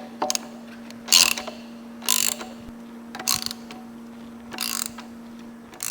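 A ratchet loosens exhaust bolts on a KTM 790/890 motorcycle in four or five short, close clicking bursts separated by pauses, over a steady low hum.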